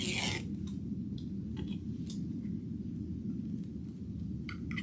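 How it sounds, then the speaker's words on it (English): Scissors snip through the threads of decorative mesh for a lemon wreath, giving faint, crisp little cuts scattered over a steady low background hum. "You guys can probably hear like every thread being cut."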